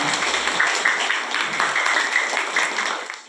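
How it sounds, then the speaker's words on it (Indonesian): Steady applause from a crowd at a school student orientation event, continuous clapping for a few seconds that fades out at the end. "Ya, kita tepuk tangan dulu untuk ke-22 anak-anak kita"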